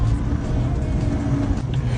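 A Yugo Florida car climbing a steep hill, its engine straining in a steady, muffled low drone throughout.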